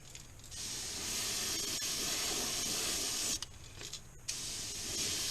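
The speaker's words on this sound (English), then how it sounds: "Let's run this airbrush out of paint." Airbrush spraying paint onto a yellow jacket crankbait lure, a close steady hiss that runs almost continuously with a couple of brief pauses near the end.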